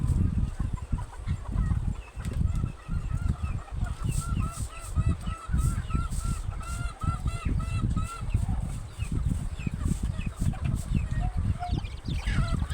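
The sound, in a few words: chickens clucking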